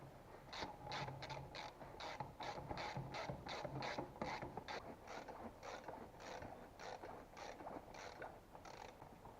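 A ratchet tightens bolts on a Valmet 911.3 wheel hub, producing a long run of brisk, evenly spaced metallic clicks up close with mechanical clatter underneath.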